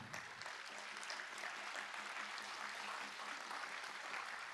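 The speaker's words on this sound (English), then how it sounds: "You can clap." A community event audience applauds for sponsors at a National Day for Truth and Reconciliation gathering, steady dense clapping heard from the crowd at moderate distance, fairly quiet and continuous throughout.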